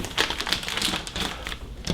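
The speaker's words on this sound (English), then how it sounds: "So you're going to separate the adhesive." Adhesive strip peeling apart on the plastic bag around a Bambu Lab P1S 3D printer during unboxing, a close, quick series of crackling, ticking separations in an irregular rhythm, no voices.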